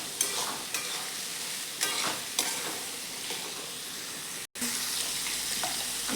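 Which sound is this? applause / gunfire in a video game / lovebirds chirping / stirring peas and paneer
stirring peas and paneer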